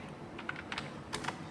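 Computer keyboard keys pressed while working in Tally ERP 9 accounting software, a few quick taps and clicks spread over a short moment, near and fairly quiet with no talking.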